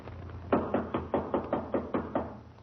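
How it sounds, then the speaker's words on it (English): A run of about ten evenly spaced knocks on a door, firm and close, rapping in a steady rhythm over a low background hum with no voices, heard in a vintage radio sitcom scene. "Well, try knocking."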